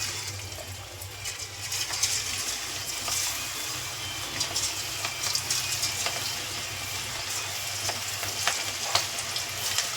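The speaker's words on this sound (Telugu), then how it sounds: "చూడండి, ఆయిల్ మంచిగా హీట్ ఎక్కిపోయింది. ఇలా ఈ విధంగా పకోడా వేసుకుందాం." Cabbage pakoda fries in hot oil, giving a continuous close sizzle with light bubbling and crackling throughout.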